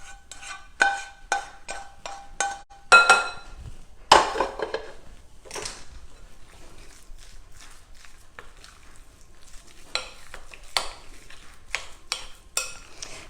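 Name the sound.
mixing sauteed green onions into meatloaf mixture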